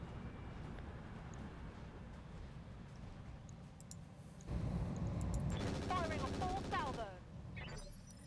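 Mech weapons in the battle game RogueTech: a steady low rumble broken by a loud burst of rapid fire midway, with sharp crackling impacts afterward, moderately loud, no voices.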